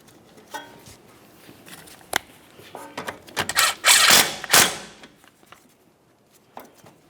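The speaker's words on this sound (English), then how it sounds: "We'll make sure that this is secured with our 12mm headed bolt." A 12mm bolt tightened on the brake flex hose of a 2006–2011 Honda Civic during front strut work, sparse metallic clicks building into a short cluster of ratcheting rattles, then quieter taps.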